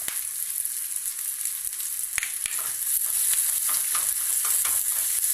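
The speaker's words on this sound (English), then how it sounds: "fry until golden brown" Paneer frying in a pan over a medium flame for pulao, a steady close sizzle that thickens and grows a little louder partway through, with faint stirring clicks and no talking.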